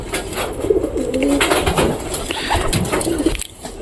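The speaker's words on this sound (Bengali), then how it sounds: "দেখো খুব সুন্দর কবুতর" Pet pigeons coo in soft, repeated throaty calls, close and steady throughout, with faint rustling around them.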